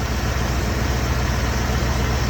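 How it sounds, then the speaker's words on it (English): A 1978 Jeep CJ-7 with a V8 engine and single-wire electronic distributor idles close by, a steady low rumbling purr with no variation and no talk over it. "And you can hear this engine purring."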